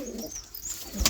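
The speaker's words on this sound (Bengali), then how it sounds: "একটা চোখের পায়রা আছে, চোখের চটিয়াল, আর একটা নর্মাল চটিয়াল।" Pigeons kept for sale give soft, low coos close by, a brief quiet murmur with a faint rustle at the end.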